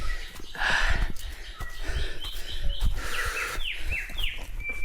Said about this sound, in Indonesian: Suara burung ya.